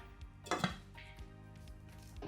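A metal lid clinks onto a pot of cucumber dal soup, a brief clatter followed by a few lighter taps.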